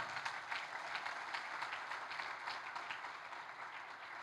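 A church congregation applauds a newlywed couple with steady, continuous clapping from many hands, heard faint and somewhat distant throughout with no talk over it.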